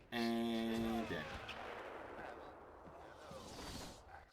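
Sniper gunfire in the video game Batman: Arkham Asylum, a single loud ringing shot at the start followed by a long decaying rumble and background game noise.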